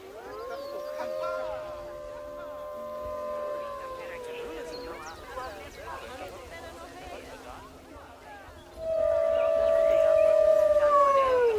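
Wolves in the zoo game Planet Zoo give long sustained howls, one fading around four seconds and another rising loud near the end, with a voice talking in the middle stretch.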